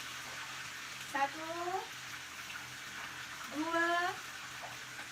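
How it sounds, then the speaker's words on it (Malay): Three cups of low-fat milk being poured into a pot for a hot dessert. Two short pours each give a rising gurgle, and a voice briefly counts between them. "kita akan tuangkan 3 cawan susu rendah lemak"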